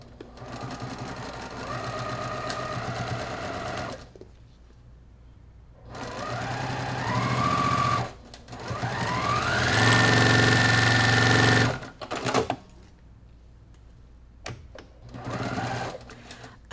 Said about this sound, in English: So from here, I'm gonna sew these two seams.